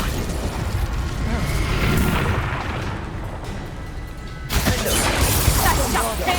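Incendio fire spell cast during a fight in the PC video game Hogwarts Legacy: a loud, sustained roaring burst of flame and crackling impacts that swells, dips, then surges again, filling the whole stretch without pause.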